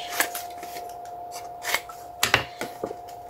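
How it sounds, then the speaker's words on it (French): Scissors snip through fabric cut on the bias for a pouch, giving several sharp, close cuts in irregular bursts, some as quick double snips, with a faint steady hum underneath. "Donc là, je vais couper en biais."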